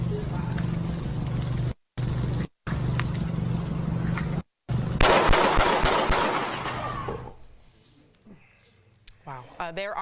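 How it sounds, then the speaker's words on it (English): Gunshots captured on a cell phone video of a police shooting, a burst of sharp loud cracks after broken stretches of muffled noise and a brief edit gap, followed by agitated voices and talk. "you will hear the gunshots"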